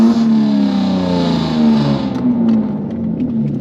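A Jaguar F-Type with a manual gearbox revs with its exhaust valves open. The loud, near engine note rises and holds, then falls away into a quieter idle.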